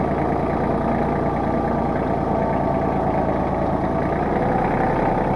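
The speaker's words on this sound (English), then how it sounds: "Now we're just going to tuck the tractor back here." A tractor engine idles steadily while the machine is tucked into a parking spot, a loud, continuous low rumble with no pauses throughout.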